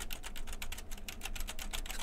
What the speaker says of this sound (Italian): E adesso farò finta di scrivere la tastiera